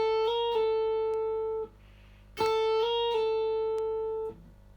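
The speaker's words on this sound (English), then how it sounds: "First you play, and then you're going to hammer on and pull off in the same while the string is still ringing." An electric guitar plays two phrases in which a ringing string is hammered on and pulled off quickly, so the pitch flicks up and back while the note sustains, clean and close with a short pause between phrases.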